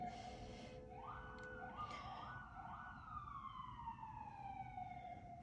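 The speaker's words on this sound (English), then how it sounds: "I don't know if you can hear the sirens" Emergency vehicle sirens wail outside, rising and falling tones sweeping past at a moderate distance over a steady low rumble of background noise, with no one speaking.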